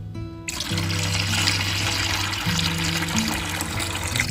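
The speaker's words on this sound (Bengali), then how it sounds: "এখানে দেখো উপরের কিছু জল আমি নিয়ে নিচ্ছি" Liquid is poured off the top of a container of fermented leftover rice: a steady stream begins about half a second in and runs without a break, over a faint low hum.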